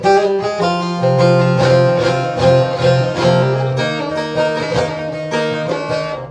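A bağlama through a Fishman PSY 201 equalizer with treble boosted fully plays a lively melody with bright, crisp treble, notes ringing out continuously and loud with no talking.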